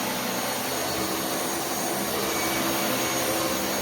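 A Dyson Cinetic Big Ball UP14 DC77 vacuum cleaner running close by, giving a steady, unbroken whooshing whine at even loudness throughout.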